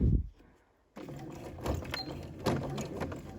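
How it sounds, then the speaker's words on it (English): A sewing machine with its needle shifted to the side stitches slowly along the hood of a hoodie, including a short back stitch over pins. After a brief near-silent pause, a steady mechanical whirring runs to the end, with louder surges. "my machine's needle has been moved to the side, so it's going to stitch over here"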